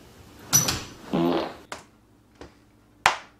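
Comic fart noises: two bursts close together, then a few short puffs spaced apart, loud and alone with no talk.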